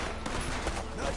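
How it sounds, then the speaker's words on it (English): Gunfire in the video game Red Dead Redemption 2 during a night shootout, a quick burst of several overlapping shots in a busy, dense mix. "Nice shooting, Arthur."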